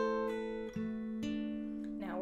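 A guitar plays the verse riff of a song, with picked notes, hammer-ons and pull-offs ringing over open strings in a steady, fairly quiet phrase, no talking.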